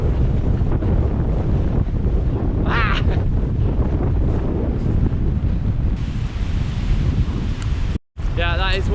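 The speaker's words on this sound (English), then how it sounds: "sea's looking angry today." Rough, angry sea on a coastline, with constant heavy wind buffeting the microphone and a deep rumble of surf, plus brief bird-like calls and a momentary dropout near the end.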